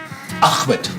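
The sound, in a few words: cough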